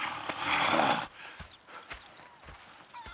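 Horses in Red Dead Redemption 2 whinny and snort loudly at first, then hooves thud and clop in a sparse, uneven rhythm under faint ambient chirps.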